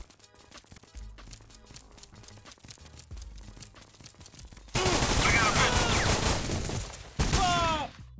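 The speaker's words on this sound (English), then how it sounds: "I gotta keep shooting, you know." Gunfire in a G-Unit video game: soft game background at first, then a loud sustained burst of rapid shots with a short gap and a second volley.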